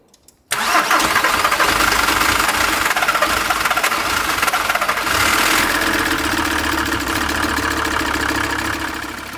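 After a brief quiet moment, a Volkswagen T4 engine cranks and catches, then keeps running loudly with an uneven, rough, knocking idle.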